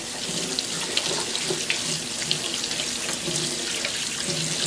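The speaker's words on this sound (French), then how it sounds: "je vais juste nettoyer aussi notre squash et carottes et puis le maïs." Tap water runs steadily into a sink while squash, carrots and corn are washed for a homemade chicken soup, a continuous close splashing stream with small irregular bursts, no talk.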